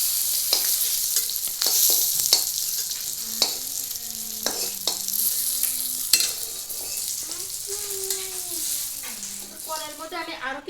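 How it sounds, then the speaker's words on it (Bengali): Slices of kakrol (spiny gourd) fry in hot oil in a pan, giving a steady bright sizzle broken by occasional stirring scrapes and taps, with a faint voice in the background. "সবগুলি কাঁকড়া কিন্তু আমি ভেজে নিয়েছি"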